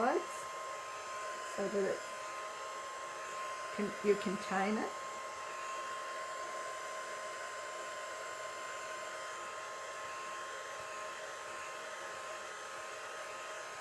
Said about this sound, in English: Then get your dryer, go from the sides